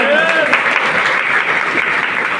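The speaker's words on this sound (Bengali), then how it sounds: "জোরে একটা হাততালি যায়।" A crowd at a nutrition therapy seminar in a party center claps loudly and continuously, a dense, sustained burst of applause.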